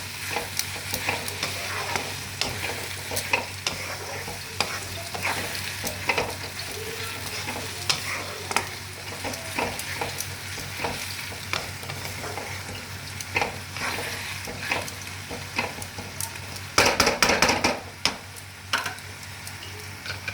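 Tomato puree sautéing in a pan for anda do pyaza, a steady close sizzle with repeated scraping strokes of stirring and a brief louder clatter near the end, no talking.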